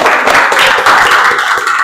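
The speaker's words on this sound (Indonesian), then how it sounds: "Tepuk tangan dulu buat kalian semuanya." Students in an elementary maths classroom clap their hands together in a brief, dense burst of overlapping claps that stays loud and close from start to finish.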